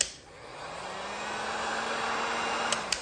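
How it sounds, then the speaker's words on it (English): A heat gun blows hot air over an engine block before a closed-deck epoxy install, a steady, fairly close whoosh with a faint low hum, ending in two small clicks. "You can do this with just a heat gun here."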